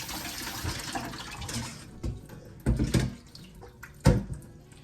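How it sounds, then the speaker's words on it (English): Small white belly shrimp rinsed under running water, a steady hiss of flowing tap water with splashy bursts and clatters as the shrimp are stirred, close by and without talking. "I'll just give it one final rinse"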